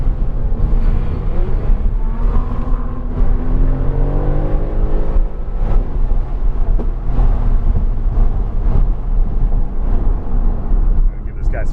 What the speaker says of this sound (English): The way that accelerates, oh my lord.